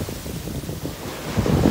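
Ocean waves washing onto a sunny beach about a mile north of Fort Lauderdale, a low rolling surf with wind rumble that swells louder toward the end.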